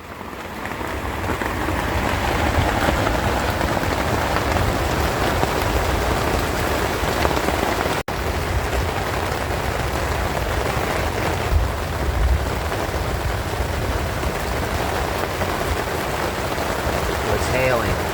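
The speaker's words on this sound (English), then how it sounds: "It's hailing." Hail comes down steadily, a dense, loud, continuous clatter that lasts throughout with no pauses, recorded up close.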